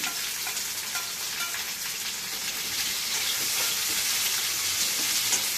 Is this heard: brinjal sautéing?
yes